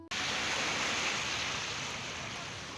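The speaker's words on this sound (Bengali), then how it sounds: "আর সামনে দেখেন কত সুন্দর ঢেউ আসতেছে" Waves washing onto a Meghna river bank during the monsoon, a dense continuous rushing wash of water heard close and fairly loud without break.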